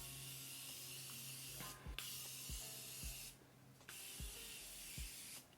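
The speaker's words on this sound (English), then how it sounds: "I'm just going to spray my face with the Morphe Continuous Setting Mist" Two bursts of Morphe Continuous Setting Mist sprayed onto a face hiss close by, each a short broadband whoosh, over faint background music.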